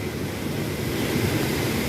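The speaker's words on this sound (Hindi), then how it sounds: "मंदाकिनी नदी।" Steady broadband rush of the Mandakini river flowing on the Kedarnath trek, loud and continuous with no breaks or voices.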